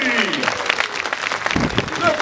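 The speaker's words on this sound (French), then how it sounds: "Et ça sera applaudi." An audience claps for a rider at an elite super final in Clisson, a brief burst of applause with a voice talking over it.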